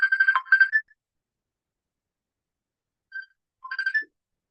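A mobile phone ringtone chiming in a classroom, two short melodic bursts of electronic notes separated by a few seconds of silence, clear and fairly close.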